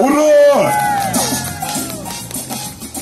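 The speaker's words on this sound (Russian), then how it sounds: "давайте еще раз поаплодируем!" An audience at the opening of an international New Year festival claps and cheers, with loud crowd noise and whoops mixed with an amplified voice calling over the applause.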